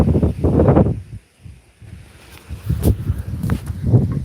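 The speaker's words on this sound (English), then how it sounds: "And those gusts of wind, we're expecting up to 70-mile-an-hour gusts of wind tonight" Strong gusts of wind roar and buffet an outdoor microphone during a lightning storm near the Oregon wildfires, rising and falling in heavy rumbling surges with a brief lull in the middle.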